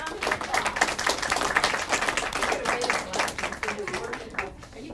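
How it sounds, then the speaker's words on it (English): A room full of people applauds, steady dense clapping that holds for several seconds before thinning slightly at the end. "let's give her a round of applause"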